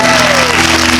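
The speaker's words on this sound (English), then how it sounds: "can we stand and give a round of applause" A church congregation applauding during a worship service, loud close clapping with a sustained tone ringing over it, likely an organ or sound system hum.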